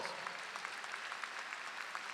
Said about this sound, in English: The band and our choral group, let's give them another round of applause.